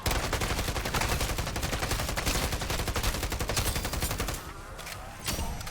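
Rapid, sustained automatic assault rifle fire mowing down a zombie horde in Modern Warfare Zombies, dense loud bursts that thin briefly near the end before resuming, with no speech.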